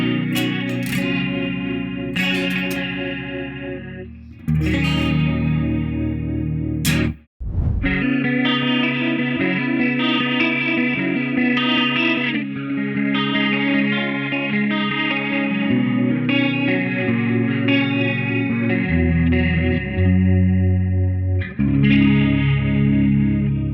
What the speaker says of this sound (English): it sounds pretty much the same as the scene A, but just with the rotary speaker enabled as an extra effect